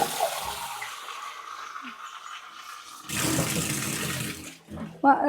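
Half a litre of milk measured and poured into a machine, a close liquid pour running for a few seconds alone after quieter handling sounds, with a brief clatter at the end.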